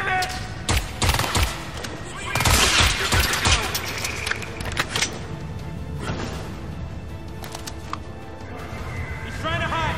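Loud gunfire crackles through a hectic firefight in Crysis 3, with bursts of shots over a dense background of explosions and battle noise while voices shout throughout.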